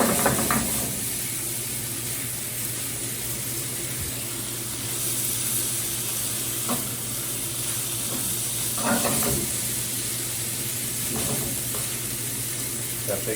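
Vegan tofu egg scramble with seasoned peppers and onions being stirred and broken up in a pan, giving a steady sizzle with occasional scraping strokes under a constant hiss.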